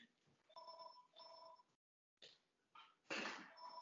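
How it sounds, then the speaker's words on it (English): A telephone rings during an online webinar: a faint, repeated electronic ring tone in short bursts with a brief gap, then a louder burst of noise near the end. "there's my phone"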